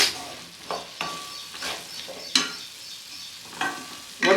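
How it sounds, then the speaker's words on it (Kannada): Cauliflower palya sizzles and crackles in a pan over high gas flame, with repeated scraping stir strokes punctuating the steady frying hiss, close up and moderately loud. "ಸ್ವಲ್ಪ ಗ್ಯಾಸ್ ದೊಡ್ಡದಾಗಿ ಇಟ್ಕೊಂಡು ಫ್ರೈ ಮಾಡೋಣ."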